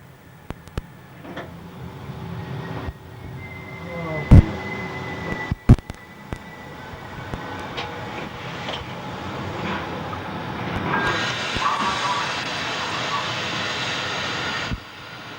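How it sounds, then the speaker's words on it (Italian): A freight train pulls out of the low freight yard at Monfalcone station on the Udine–Trieste line, a low rumbling roll with scattered metallic clanks and squeals, growing broader and louder toward the end before dropping away. "Intanto vediamo un treno merci che sta uscendo dal fascio merci basso"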